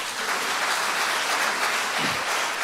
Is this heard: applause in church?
yes